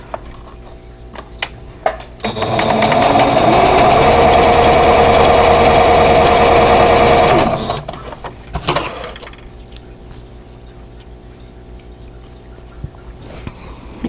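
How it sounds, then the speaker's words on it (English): A sewing machine runs in one steady, loud burst of about five seconds, stitching two quilt squares together for a vintage quilt block, with quieter handling noises before and after. "So I'm going to sew one G square and one C square"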